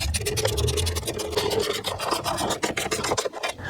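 A metal nut is threaded onto a stud on a car battery cover, a close, loud rasping ratchet of rapid repeated scrapes that shifts into quicker clicks near the end.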